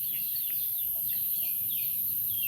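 Chickens cluck and call at a farm with a pig-raising setup, several short calls scattered over a quiet, hissy background, fairly distant and faint with no talk.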